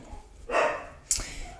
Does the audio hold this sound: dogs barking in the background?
yes